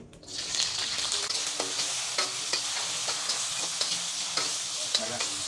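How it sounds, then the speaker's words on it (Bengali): Steady loud sizzling of long beans lightly frying in a wok, with repeated scraping and stirring strokes throughout. "আমি প্রথমে আগে বরবটিগুলো হালকা একটু ফ্রাই করে নিচ্ছি"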